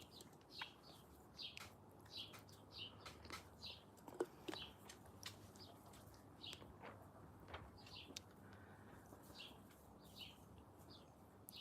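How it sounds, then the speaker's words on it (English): Birds chirping outdoors in a garden, short bright calls repeating every second or so at a moderate distance, with a faint low hum underneath. "All I hear is the birds chirping."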